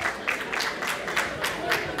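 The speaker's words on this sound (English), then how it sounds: "you give an applause." A brunch crowd at a scholarship event gives brief, scattered applause, with claps coming in loose bursts and faint voices underneath.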